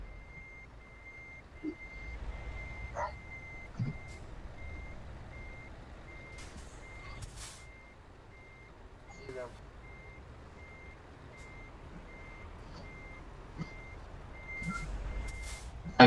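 Reversing beeper on a truck in Euro Truck Simulator, a steady run of evenly spaced electronic beeps running through the whole stretch over low engine rumble, with a few faint clicks and brief voices in the background.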